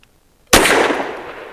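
A single sharp pistol shot from a Fusion Firearms XF Pro firing Federal HST 124 grain ammunition cracks loudly after a quiet moment, followed by a ringing, decaying echo.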